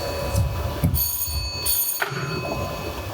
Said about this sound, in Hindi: अरे फोन तो उठाइए।